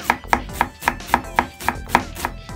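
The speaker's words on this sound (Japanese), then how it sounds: "これをみじん切りに" A knife finely chops onion on a cutting board in about nine quick, evenly spaced crisp taps, close and clear, with no voices.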